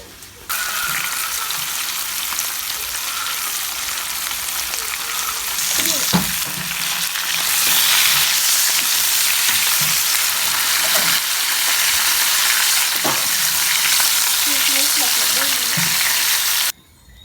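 Flour-coated tilapia fries in oil in Jamaica, giving a loud, continuous close-up crackle with scattered clatter and stirring knocks.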